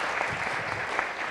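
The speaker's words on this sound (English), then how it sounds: "Let's have applause for our 2 volunteers." Brief, steady applause from an audience cheering two volunteers at a public-speaking talk, a continuous crackle of many hands with no break or voices.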